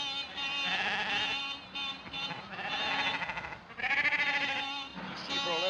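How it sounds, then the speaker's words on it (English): A flock of sheep crowding a country road in the 1930s, bleating loudly and repeatedly in overlapping calls, close and continuous throughout with no talking. "Sheep are all over the road, damn silly things."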